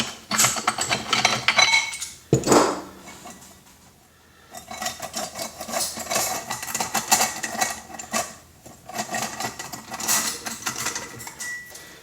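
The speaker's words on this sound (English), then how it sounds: "Let's remove the locking devices." Metal locking devices are pried off an old clutch assembly, producing a series of sharp clinks and scraping metallic clatter in bursts, with a quiet pause in the middle.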